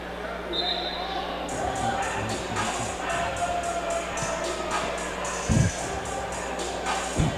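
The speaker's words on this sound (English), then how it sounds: "I think the officials are complaining about the crowd noise" Crowd noise fills a high school boys' basketball game gym, Enterprise against Dothan, a steady murmur with occasional shouts and ball bounces, and people talking over it throughout.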